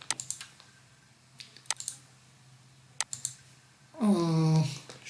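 Short bursts of computer keyboard typing, a few separate clusters of clicks over quiet room tone, ending with a louder sustained sound.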